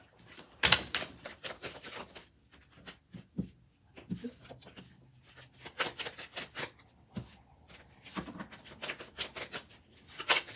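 Tarot cards are shuffled and handled up close with irregular papery flicks, slaps and riffles. A voice speaks softly in places.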